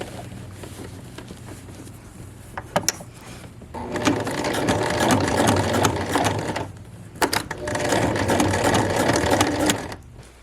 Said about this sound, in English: we'll stitch really close to the bottom edge of the belt loop